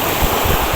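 Ocean waves washing against a breakwater in Abu Dhabi during rough weather, a steady close roar of surf with wind noise on the microphone and no clear individual breakers.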